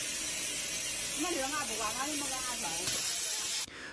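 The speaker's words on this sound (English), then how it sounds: "Oil sprays into a bucket." Industrial lubrication oil sprays into a bucket in a factory, giving a steady, close hiss that runs throughout under a voice talking briefly in the middle, then cuts off sharply near the end.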